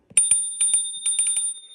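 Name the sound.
bell on Inmotion S1F electric scooter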